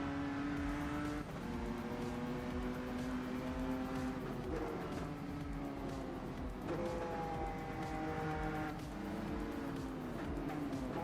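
A BMW M2 race car engine in the Rennsport racing sim drones and revs steadily, its pitch rising and falling through gear changes for the whole stretch, loud and close.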